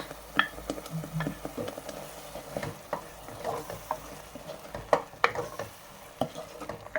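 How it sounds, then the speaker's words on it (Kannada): Spinach and chicken frying in a pan for palak chicken gravy, with a steady sizzle broken by scraping stir strokes and light clinks of a utensil against the pan, close and moderately loud, no talk. "ಈ ಥರ ಎಲ್ಲ ಚೆನ್ನಾಗಿ ಫ್ರೈ ಮಾಡ್ಕೊಳ್ಳಿ"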